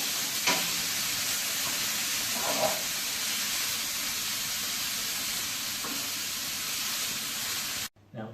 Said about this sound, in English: so we've browned our meat